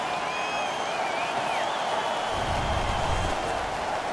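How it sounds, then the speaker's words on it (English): A continuous wash of crowd noise fills an ice hockey arena in the video game NHL 16 as the home fans cheer, with thin whistles early on and a low rumble swelling midway. "The home crowd is ecstatic. They're making all kinds of noise."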